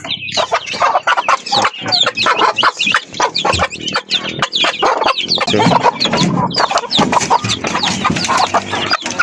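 Chickens cluck repeatedly and loudly up close, a busy overlapping stream of short calls with no talking.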